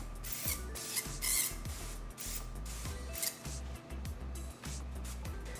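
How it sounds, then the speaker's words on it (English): Olive oil cooking spray hisses in several short bursts over a sheet pan, soft close-up sprays separated by brief pauses and faint handling clicks. "Grab that olive oil spray one more time, and we're gonna go ahead and cover the whole entire pan."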